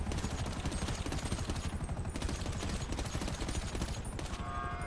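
Gunfire in GTA Online rattles continuously in dense, rapid volleys, like several automatic weapons firing at once, loud and sustained throughout.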